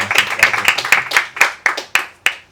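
Audience applause at a Spanish-language philosophy and poetics talk, a short burst of a few hands clapping in uneven rhythm that thins into a handful of separate, spaced claps.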